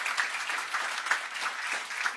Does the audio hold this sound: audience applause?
yes